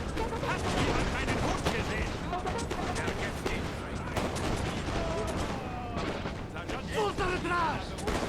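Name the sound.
cannons firing canister shot in Master of Europe mod video game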